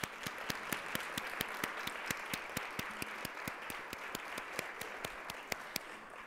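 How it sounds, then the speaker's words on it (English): Steady applause from an audience, with scattered sharp individual claps standing out above the crowd's clapping. "Let's give all of them a round of applause."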